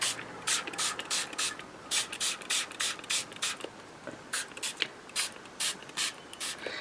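A Phil Martin mist spray bottle sprays ink onto mixed media journaling cards in a series of short, hissing pumps, in quick rhythmic clusters of two to four with brief pauses between them.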